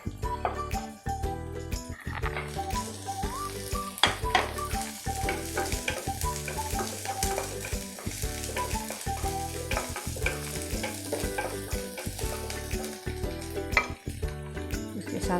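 Onions fry in a pan for homemade hot and sour soup, with a loud, continuous sizzle. A spatula scrapes and clinks against the metal in a busy, rhythmic pattern throughout.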